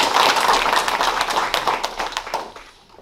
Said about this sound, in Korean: 다시 한번 큰 박수를 주시기 바랍니다